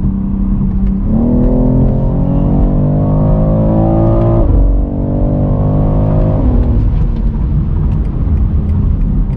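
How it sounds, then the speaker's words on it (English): A 2022 BMW X3 M Competition revs and pulls hard under acceleration, a steady throaty exhaust drone with burbles rising and easing in pitch, loud and close throughout. "You can hear those burbles really a lot more on the highway at higher speeds"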